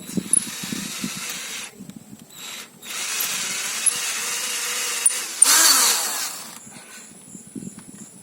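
A power drill bores out a cylinder head bolt hole on a 2003 Honda Accord V6, a steady buzzing grind with short pauses and a louder surge near the end.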